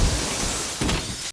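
Glass shatters as a fighter kicks backwards through a pane in the action movie John Wick: Chapter 3 – Parabellum. A loud, brief crash with a second burst near the end cuts off abruptly.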